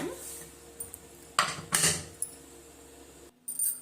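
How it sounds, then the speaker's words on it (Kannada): A pressure cooker lid is set on and locked shut, giving several sharp metallic clanks and scrapes close by, with short pauses between them and a low background hum. "ಈಗ ಕುಕ್ಕರ್ ಕ್ಲೋಸ್ ಮಾಡಿಬಿಟ್ಟು ಎರಡು ಸೀಟಿ ಹಾಕ್ಸ್ಕೊಬಿಡೋಣ"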